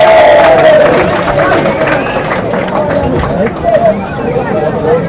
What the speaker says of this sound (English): I have a round of applause for Barclays Bank